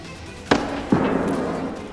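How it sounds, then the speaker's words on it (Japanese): Two distant grenade launcher explosions in the video game Escape from Tarkov, a sharp crack followed by a deeper thump about half a second later, each trailing into a rumbling decay over steady background ambience. "やっぱり確実にグレポンですよね。"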